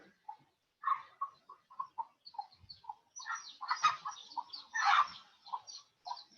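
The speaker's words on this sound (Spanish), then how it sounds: "Escucho mis gallinas por acá hoy." Hens cluck in short, irregular bursts, close by and fairly clear, with soft chirpy calls mixed in and no talking.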